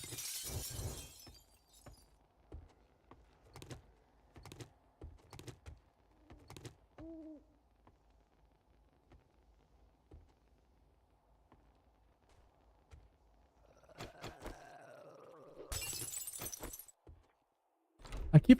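Glass bottles shattering in a video game set in an apocalyptic world overrun by zombies and robots: a sharp crash with a spray of glass at the start and another near the end, separated by scattered short clinks and knocks.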